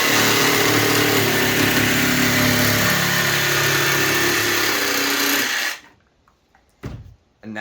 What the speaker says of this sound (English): Start your jigsaw.